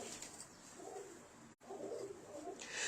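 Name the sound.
pigeons cooing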